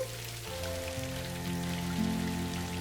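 Rain falls steadily, a dense hiss of drops beneath a sustained musical tone, without any voices.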